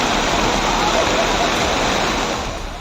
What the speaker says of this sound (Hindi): पानी का ये शोर डराने वाला है।